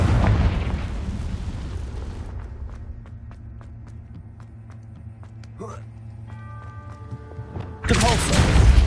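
A Confringo blasting spell cast in the Hogwarts Legacy game: a loud, broad burst of explosive noise that fades into quiet ringing tones and a faint whoosh, then a second sharp blast hits near the end.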